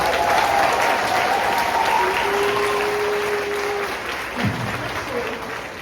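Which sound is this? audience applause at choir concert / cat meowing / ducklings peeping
audience applause at choir concert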